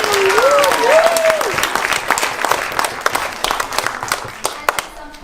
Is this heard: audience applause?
yes